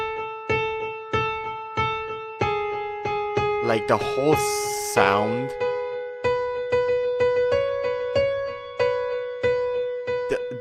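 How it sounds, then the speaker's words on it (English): Song played with a delay effect: repeating plucked tones with decaying echoes in a steady rhythm, briefly interrupted by a sweeping, noisy burst in the middle, while a person speaks over it. "it's really funny because it sounds like this with the delay."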